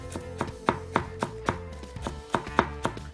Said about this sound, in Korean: 이렇게 얇게 썰어가지고 오야코동다 만들고 나서 위에다 뿌려줄 거예요